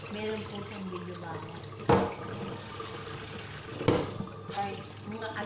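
Tap water running steadily in a home kitchen while food is washed before cooking, a close continuous hiss with a couple of brief louder splashes, and people talk over it.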